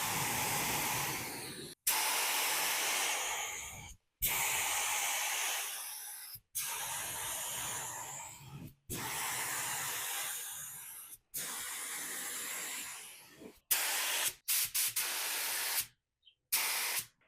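Rust-Oleum spray paint goes on as a light coat in repeated hissing bursts of about two seconds each, separated by short silent gaps and close by.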